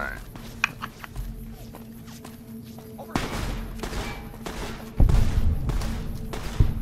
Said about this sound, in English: why are you shooting at my people?